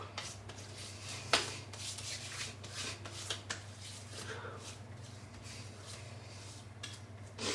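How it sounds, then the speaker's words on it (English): Hands rubbing shaving cream made from Proraso Green soap, a soft, quiet wet swishing and smearing close by, with a sharper squelch or two and faint background hum. "rub them together with that little bit of moisture on my hand"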